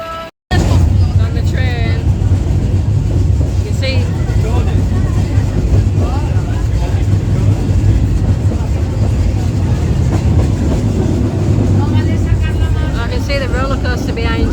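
A theme park train ride at PortAventura gives a continuous rumble and rattle of the carriage rolling along, loud and close, with people talking throughout.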